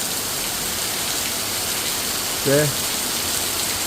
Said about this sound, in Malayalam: ആ രാത്രിയിൽ പെയ്ത മഴ ഇതുണ്ട്.